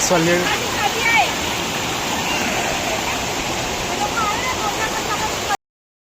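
A waterfall on Pavagadh hill roars with a steady, dense rush of water, with faint voices briefly audible at the start.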